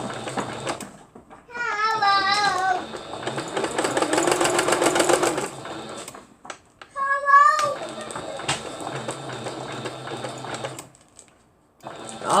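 A sewing machine back stitches a stove towel in a home setting, running in bursts of fast, steady mechanical whirring. A cat meows loudly nearby and people talk between the runs.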